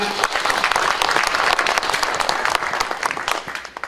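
A church congregation at a French deliverance worship service breaks into loud, sustained applause, dense rapid clapping filling the space close around, with voices mixed into the crowd.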